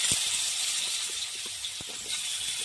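Potatoes dropped into a spoonful of hot oil in a wok give a steady, close hiss of frying, with a few faint low knocks scattered through it.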